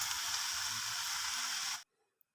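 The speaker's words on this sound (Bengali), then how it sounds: "এবার আমি কড়াই তেল দিয়ে দিচ্ছি, কালো জিরে ফোড়ন দিচ্ছি, দিয়ে শাকগুলো ছেড়ে দিচ্ছি।" Fresh kolmi greens fry in oil with black cumin in a wok, making a steady, dense sizzle that lasts under two seconds before cutting off abruptly into near silence.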